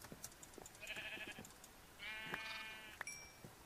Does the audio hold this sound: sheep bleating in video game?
yes